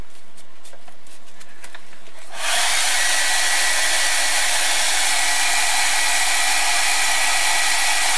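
A hair dryer switches on after a quiet stretch and blows steadily at close range, a loud continuous whoosh drying a painted art journal page, with no talk over it.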